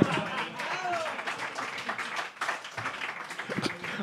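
Audience applause and clapping roll through a live comedy show, a lively continuous patter of many hands with scattered louder claps, mixed with crowd voices and laughter underneath.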